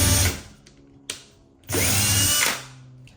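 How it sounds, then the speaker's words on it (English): A power drill fitted with a larger bit whirs in two bursts, a short one and then a longer, louder one of about a second, with a brief click between them. "We're gonna switch to the next size up of drill bit."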